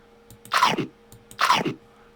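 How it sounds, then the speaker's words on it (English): Two identical crunchy cartoon bite effects from Scratch, evenly spaced about a second apart, crisp and close with silence between. "You even have the bite sound in banana"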